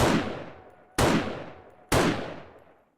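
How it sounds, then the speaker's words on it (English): Three loud rifle gunshots from the video game 7 Days to Die, fired about one second apart, each a sharp crack followed by a long decaying echo, with no talking. "So I'm shooting at zombies, reload, and I'm back there."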